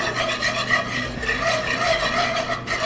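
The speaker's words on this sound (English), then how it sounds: "Himalayan salt, and we're going to keep stirring" A spoon or spatula scrapes and rasps steadily through a pan of pork fat, seasonings and Himalayan salt being worked into a browning roux, the close, continuous stirring strokes forming an even rhythm with a faint sizzle beneath.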